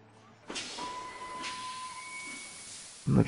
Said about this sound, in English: And the train turns around and departs.